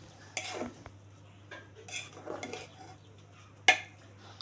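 A ladle stirring fish pulao in an opened pressure cooker, a few separate scraping strokes against the metal pot, then one sharp clink.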